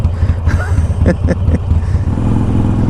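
A Harley-Davidson Iron 883 motorcycle rumbles along on a ride, a loud steady low engine drone with wind buffeting and some clattering bursts, close and continuous.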